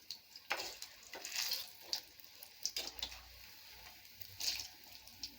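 Cauliflower bonda fries in hot oil, a soft steady sizzle with faint crackles and occasional splashy bursts, fairly quiet and without talk.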